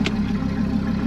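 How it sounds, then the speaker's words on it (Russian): A car engine idles with the windows open, a steady low hum with a faint regular pulse, close and continuous with no talk over it. "Я открою оба окна, чтобы звук мотора слышали все."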